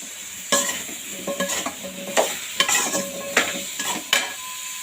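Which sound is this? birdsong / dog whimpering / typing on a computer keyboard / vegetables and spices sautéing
vegetables and spices sautéing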